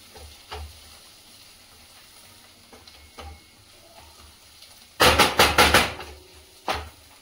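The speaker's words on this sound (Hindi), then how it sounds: "आतां हे पियावनी गोल्डन फ्राय जायत येयल्याय" Onions frying golden in a pan for chicken biryani masala, with a quiet background for several seconds and then a loud burst of sizzling and stirring near the end.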